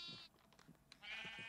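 A Minecraft sheep bleats, one short bleat at the start and another near the end with soft game sounds between, faint and alone with no talking.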